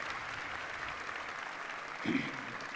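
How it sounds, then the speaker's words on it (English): Crowd at a BGSU summer commencement ceremony clapping in a steady, moderately distant wash, with a brief louder thump near the end. "Please join me in a round of applause"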